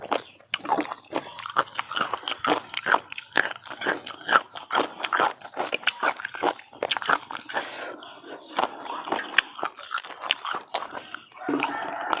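Close, repeated crunching bites and chewing of crunchy squid, a fast irregular rhythm of crisp snaps over twelve seconds.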